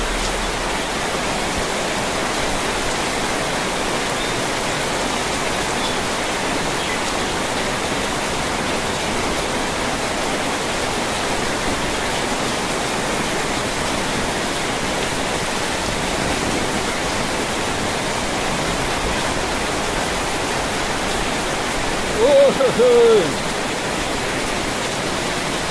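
Heavy rain falls over a flooding slum neighborhood. A dense, unbroken hiss continues for the whole stretch, loud and steady, with a faint voice near the end.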